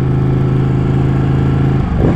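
A Ducati 899 V-twin sport motorcycle on a test ride, its engine droning loudly and steadily at high revs, then shifting in pitch near the end.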